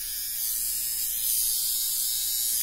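A small battery-powered electric shaver runs with a steady, close, high-pitched buzz that holds even throughout, with no voices over it.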